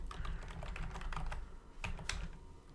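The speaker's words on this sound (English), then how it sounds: "So I'm just going to type in the qualities that I typically put in." Quick bursts of keystrokes on a computer keyboard while entering text into a spreadsheet, close and fairly quiet, with a short pause before a final flurry of taps; no one speaks.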